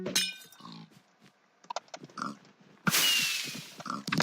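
Pig character in a video game grunting and squealing in short bursts, mixed with clinks and clangs of game effects and a sudden loud noisy burst near the end.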